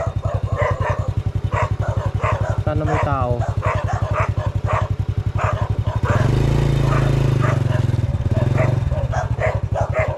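Several dogs bark repeatedly at a rural land lot for sale in Bulacan, the yips and woofs mixed under steady talking, with a louder engine-like rumble swelling midway.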